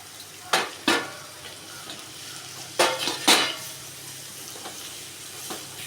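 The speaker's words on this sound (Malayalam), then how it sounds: "നൈസായിട്ട് അരിഞ്ഞ് വെച്ചേക്കുന്ന സവാള ഇട്ട് കൊടുക്കാം" Sliced onions frying in hot coconut oil, a steady sizzling hiss broken by a few sharp clattering stirs, close by with no talking.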